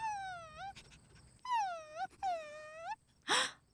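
A collie in an animated film whimpers and whines in three long, drawn-out quavering cries, fairly close and clear, followed by a short breathy gasp.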